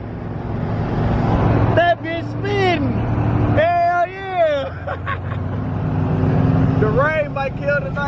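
A car does a burnout at a car show, its tires spinning in a loud, sustained roar. Spectators whoop and shout close by over the noise.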